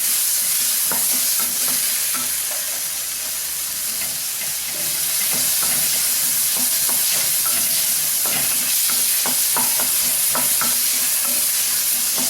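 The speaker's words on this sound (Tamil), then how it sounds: "பச்சை வாடை போடுறதுக்காக நம்ம வதக்குறோம்." Turkey berries and vegetables sizzle steadily in a hot pan while a utensil scrapes and stirs them with intermittent clicks, close up and without speech.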